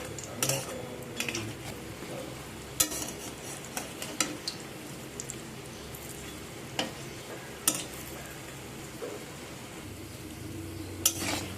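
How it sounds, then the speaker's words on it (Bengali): Several mung dal fritters (bora) frying in a pan of hot oil, a steady soft crackle with a few sharp clicks of a utensil turning them, close and fairly quiet with no talk. "বেশ কয়েকটা বড়া আমি এখানে ভেজে নিচ্ছি"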